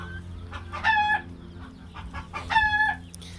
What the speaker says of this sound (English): letting the fowl run about